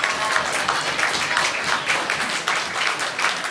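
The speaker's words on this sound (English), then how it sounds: "Yeah, big round of applause for Tom" Steady applause from a room full of people, a dense continuous patter of clapping with no pauses, moderately loud.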